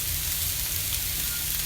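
Pieces of salmon sizzling steadily in a pan over two burners set to medium, a dense continuous frying hiss with no talking.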